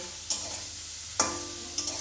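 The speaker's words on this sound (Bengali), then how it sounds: "এই যে আমার মেয়ে রান্না করছে, এই যে উচ্ছে বেগুন ভাজা করছে" Bitter gourd and eggplant fry in a pan with a low, continuous sizzle, broken by three sharp scraping stirs spaced across the moment.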